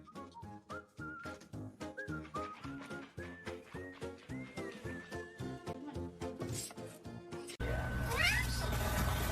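A cat meowing in a repeated, rhythmic series of pitched calls, fairly faint, before a sudden burst of louder, noisier sound takes over at the end.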